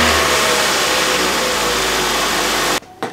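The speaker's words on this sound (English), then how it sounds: "after you're done changing the spark plugs, you wanna start the engine" A 2017-2022 Hyundai Ioniq hybrid engine runs steadily with a loud, close, even drone after fresh spark plugs are fitted, cutting out abruptly near the end.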